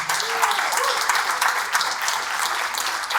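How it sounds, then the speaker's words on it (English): Steady audience applause fills a conference hall, dense and sustained clapping from a large crowd throughout, with a brief voice rising over it near the start. "Can we just give another round of applause?"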